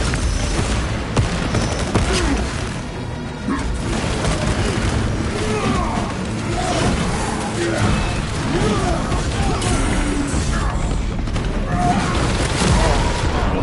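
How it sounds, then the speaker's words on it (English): Heavy explosions and crashing combat noise fill a frag grenade blast scene in the Space Marine 2 video game, dense and loud throughout, with voices talking over the chaos. "Throwing frag grenade!"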